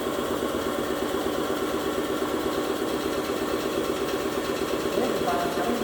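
An air compressor in a lab setting starts up after its drive frequency is raised, then runs with a steady, dense mechanical drone and vibration, loud and constant throughout, with no speech over it.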